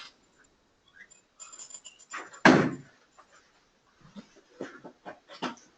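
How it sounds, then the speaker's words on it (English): Dog being let in through a door at home: faint shuffling and handling, then a single loud door thud or slam, followed by scattered patters, small clicks and soft movement noises. "Let me let my dog in."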